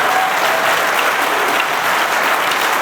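A large audience applauds steadily and loudly, with dense, continuous clapping and no voices on top, at a farewell speech by Israel's ambassador to the UN.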